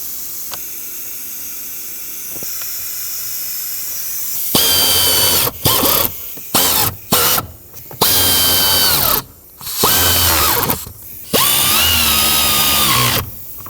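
Power drill driving mounting bolts on a 2007-2009 Saturn Aura blower motor, a quiet lead-in followed by loud, close whirring bursts that start and stop repeatedly in short runs.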